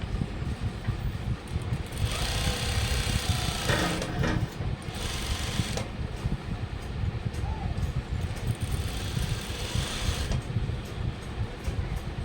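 A sewing machine runs in steady bursts of rapid mechanical whirring and clatter as it stitches along the turned edge of a blouse neckline, with short pauses between runs and close, fairly loud motor noise.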